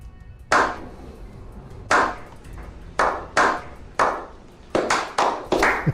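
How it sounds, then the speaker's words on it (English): A slow clap of about nine separate, sharp hand claps spaced roughly half a second to a second apart, picking up slightly toward the end, close and distinct against a quiet room. "The slow clap."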